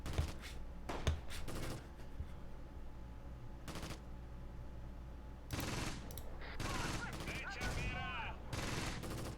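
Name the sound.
gunfire exchange in Close Combat video game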